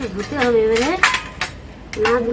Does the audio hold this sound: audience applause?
no